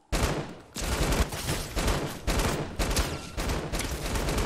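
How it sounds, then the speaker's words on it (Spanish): Covering fire in the Fortnite video game arrives as loud, close bursts of rapid automatic gunfire, after a short quiet start, with brief gaps between volleys and no voices over it. "Yo voy a dar fuego de cobertura."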